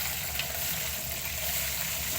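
Moong dal sizzles in hot oil while being fried for nimko, a steady, close hiss with no pauses for a couple of seconds.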